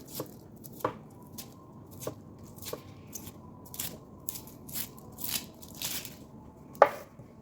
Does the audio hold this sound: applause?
no